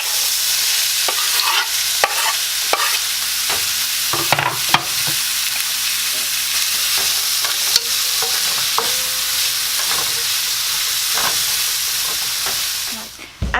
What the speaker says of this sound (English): As our onions are sizzling